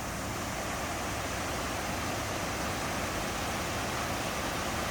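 Steady, broad rush of moving water, like surf or a flowing stream, continuous and fairly loud throughout with no voices.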